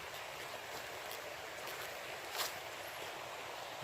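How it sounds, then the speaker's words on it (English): A mountain river or stream flowing below the listener, a steady broadband wash of moving water continuing without break, fairly faint and alone with no voices. "listen to that beautiful stream, that beautiful river down there. Listen to that water."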